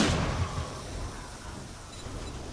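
Gunfire in the zombie survival game 7 Days To Die with the Wild West mod, a loud shot at the start followed by a rumbling, decaying tail and steady background noise.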